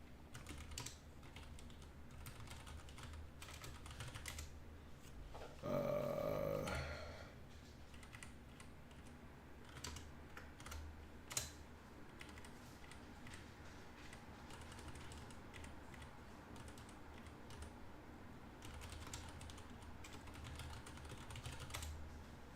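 Keys clack on a computer keyboard as a command is typed while building a ROS2 robot, light irregular taps close up against a quiet room hum, with a brief louder mechanical rattle near the start.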